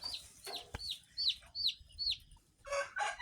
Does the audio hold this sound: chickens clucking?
yes